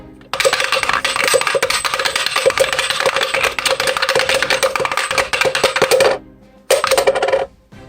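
Coins shaken hard inside a covered container during a tarot reading, a dense continuous metallic rattle for about six seconds, a brief pause, then a shorter burst of shaking, close and loud.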